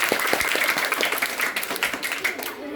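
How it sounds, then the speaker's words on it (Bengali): Applause from a school gathering during a student captain election, steady dense clapping from many hands filling the short stretch and thinning slightly at the end. "ওর জন্য আরেকটা করতালি।"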